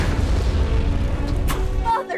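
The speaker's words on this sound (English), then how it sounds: "The real challenge with creating such an explosion is that there's usually only one chance to get it right." A huge explosion for a Christopher Nolan film roars as a loud, sustained, rumbling blast that fills the low end, then cuts off abruptly, followed by a brief quieter moment.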